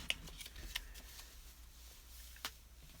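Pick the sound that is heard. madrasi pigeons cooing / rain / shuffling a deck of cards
shuffling a deck of cards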